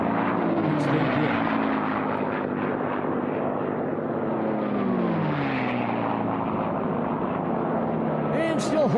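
A North American racing airplane fitted with a Rolls-Royce engine flies past during an Unlimited Bronze class air race, a loud, sustained droning engine roar whose pitch sweeps as it passes, heard under continuous commentary.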